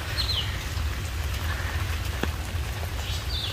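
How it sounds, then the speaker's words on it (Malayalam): Steady rain falls outdoors after a night of wind and storm, a continuous hiss of drops on surfaces, with occasional faint bird chirps in the distance. "അങ്ങനെ നല്ല മഴയുണ്ട് കേട്ടോ ഇപ്പോഴും"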